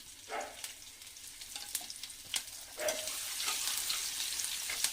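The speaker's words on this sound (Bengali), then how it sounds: "তেলের ওপর থেকে দিয়ে দিচ্ছি আমি কালো জিরে আর কোচানো কাঁচা লঙ্কা আর আদা কোচানো।" Black cumin, chopped green chilli and ginger sizzle in white oil in a kadai. The crackle starts as scattered pops, then swells into a dense, continuous hiss about halfway through.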